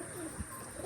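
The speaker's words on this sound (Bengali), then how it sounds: "এই দেখো আওয়াজ শোনো বাজির মাদির" A short, soft low coo from a female pigeon sounds once amid faint background hiss, brief and somewhat distant.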